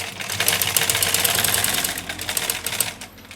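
A black sewing machine sews jeans with a rapid, continuous mechanical chatter of the needle, steady and close for about three seconds before slowing near the end.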